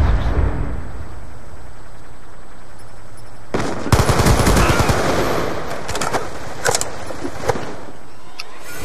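Automatic gunfire in Call of Duty: Black Ops 2 on the Nuketown team deathmatch map: long sprayed bursts of rapid cracking shots that start after a quieter stretch, loud and close, with a few isolated shots and players talking at times.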